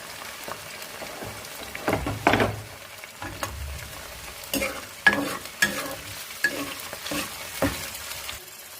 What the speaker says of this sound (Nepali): प्याजसँगै मैले पहिला पनिर हालेँ